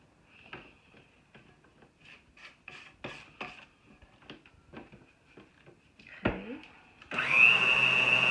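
An electric mixer whirs loudly and steadily through cupcake batter near the end, after a stretch of quiet clicks and scraping.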